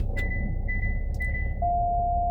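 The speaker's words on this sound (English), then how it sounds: "that noise is for the backup camera" A car's backup camera warning gives a few short electronic beeps followed by a longer steady tone, fairly close and clear over low background rumble.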